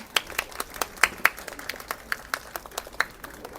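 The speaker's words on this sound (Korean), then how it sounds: "여러분 따뜻한 박수 부탁드리겠습니다" Wedding guests give warm applause, a sparse, uneven scatter of individual claps from a modest crowd, fairly soft and distinct rather than a dense roar.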